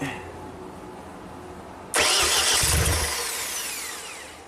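The engine of a damaged JLG lift that sat for two years is cranked, bursting in abruptly and loud after a quiet stretch, then a strong grinding roar that slowly tapers.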